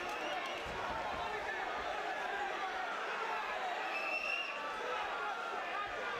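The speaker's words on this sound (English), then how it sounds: "you can hear the crowd's response" A boxing crowd at the David Hewitt vs Stu Jones fight roars steadily for the whole stretch, a dense, loud wash of cheering and shouting with no break.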